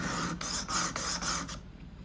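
A knife is worked back and forth on a sharpening stone in steady, even rasping strokes, five close scrapes in a regular rhythm before the sound cuts off into quiet.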